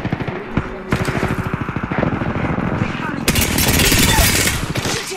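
Rapid automatic gunfire from Apex Legends weapons such as the Flatline and R99, sustained bursts of loud close shots with a heavier volley near the end, mixed with game effects and a voice talking.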